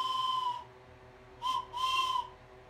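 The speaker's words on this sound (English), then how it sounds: "And I have a train whistle." A toy-like whistle sounds three times, one longer blow, a short pause, then two breathy toots close by over a faint background hum.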